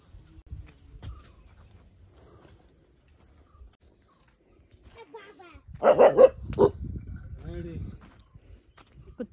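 A dog barks in a village setting, a short burst of a few loud, close barks rising above low background murmur and stray speech.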